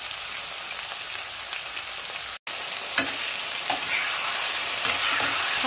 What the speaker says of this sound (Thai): ผัดมะเขือเริ่มสุกแล้วนะคะเพื่อนๆ